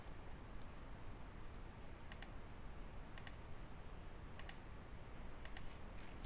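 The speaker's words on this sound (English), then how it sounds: "I'm going to click on the P tool." Sparse mouse clicks while working in Adobe Illustrator, soft isolated ticks coming singly or in quick pairs over a steady low background hiss, close and quiet.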